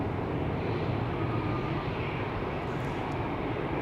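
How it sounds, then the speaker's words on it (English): Airliner arriving from Nairobi touching down on the center runway at Amsterdam Schiphol Airport, a continuous distant low engine roar and rumble, steady and unbroken, with no voices. "Retrolux is coming into the center runway. Arriving from Nairobi in Kenya."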